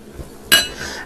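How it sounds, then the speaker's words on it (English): A chopping board being taken out and set down on a kitchen counter, one sharp clattering knock midway through a quiet moment, with a small tap just after. "So I'm going to be taking out my chopping board, dust that up with a bit of flour."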